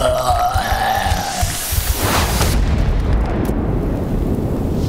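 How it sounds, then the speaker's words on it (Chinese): A homemade bomb goes off in an animated post-apocalyptic fantasy series, a loud, sustained booming roar that rumbles on for several seconds after a brief rising whistle-like tone at the start. "叶哥，你制作的这炸弹威力可以啊。"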